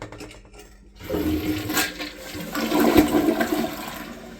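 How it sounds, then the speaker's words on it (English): A newly installed toilet flushes with a loud, close rush of swirling water that builds and stays strong to the end, preceded by a quieter moment. "Show you what kind of flush it has."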